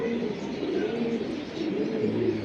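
A pigeon being held in the hand at a commercial pigeon sale coos in low, rolling murmurs that continue steadily and close to the microphone, with no talk over them.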